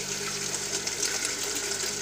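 Steady stream of water running through an aquaponics setup with catfish fingerlings, a continuous close splashing flow of about three liters per minute with no voices.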